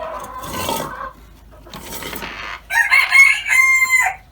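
Silver Sebright and Russian Orloff chickens cluck and crow in a henhouse setting, first with scratchy rustling bursts, then a loud, close run of bright crowing and clucking calls near the end.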